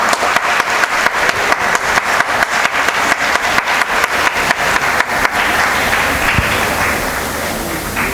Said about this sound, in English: We request the spectators to give a big round of applause.